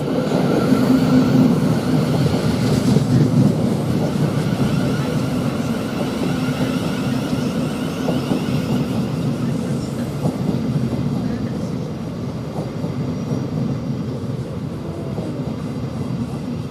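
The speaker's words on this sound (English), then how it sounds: "Now we are getting the Thameslink zone with the 1340 from Brighton to Cambridge. Welcome to 700, this is now arriving." A Thameslink Class 700 electric train, unit 700138, pulls into Three Bridges station with a steady loud rumble and hum that eases slightly as it slows, while someone speaks over it.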